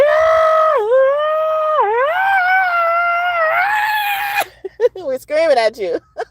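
People scream loudly in sustained, high-pitched, wavering wails for several seconds, then break into shorter choppy cries.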